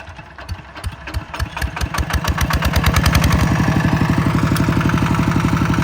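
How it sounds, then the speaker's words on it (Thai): A tractor engine chugs close by, its rapid even firing pulses rising in level as it revs up and then holds a steady loud rhythm. "วันนี้ก็สิขี่รถไถลงไปไว้เนาะพี่น้อง"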